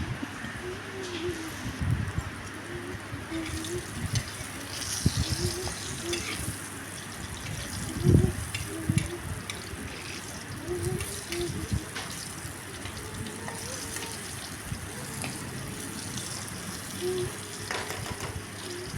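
Teasel gourd (kakrol) slices fry in a pan with a soft continuous sizzle, broken by occasional louder crackles and clinks, while someone speaks intermittently nearby.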